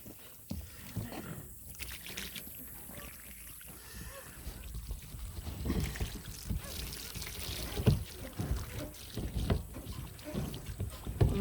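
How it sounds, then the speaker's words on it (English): Water pours from a hose into a tractor tank outdoors: a continuous, uneven splashing and gurgling that grows slightly louder and busier over time, close by. "I'm going to put this hose in the tank there."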